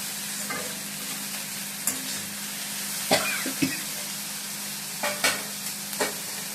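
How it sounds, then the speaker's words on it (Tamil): Onions sauté in a pan with a constant close hiss and sizzle, broken by scattered scrapes and clicks of a utensil stirring, with no talk. "அந்த ஆனியனுக்கு தகுந்த போல் கொஞ்ச நேரம் வதக்கிட்டேன்"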